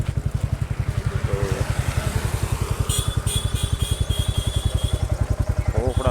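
A motorcycle engine idles steadily and close by on a roadside at a river confluence near Rishikesh, its low rapid pulsing continuous throughout, with faint higher tones and brief chirps over it.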